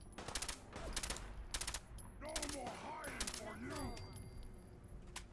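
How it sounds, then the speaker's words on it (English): Fallout 4 SMG gunfire comes in quick rattling bursts, several short automatic volleys spaced apart, with speech running through the middle of the firing. "I love this little SMG."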